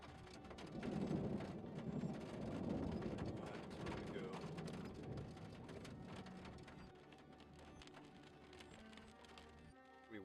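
A slow-moving severe thunderstorm forming from several merging cells: steady loud rain with thunder rumbling throughout, a bit heavier early on before easing slightly toward the end.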